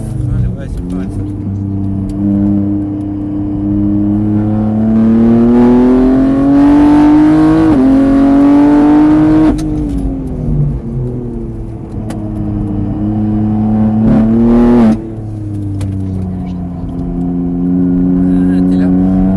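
A car accelerates hard around the Mireval track, its loud engine note rising through the revs and dropping at gear changes, with a brief lift near the end, while people talk over it.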